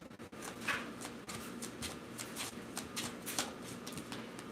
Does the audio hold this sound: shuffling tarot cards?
yes